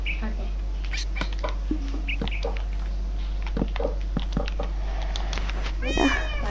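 Cat meows from the video game Minecraft, several short mewing calls scattered over a steady low hum and game sounds, with a clearer meow near the end; no one speaks.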